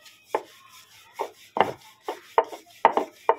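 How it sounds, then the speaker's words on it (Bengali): A rolling pin flattens wheat dough into a roti-like round for pitha, giving about eight separate soft wooden knocks and rubs against the board in an uneven rhythm, close and clear with quiet gaps between. "এবারে একটা রুটির মতো বেলে নেব।"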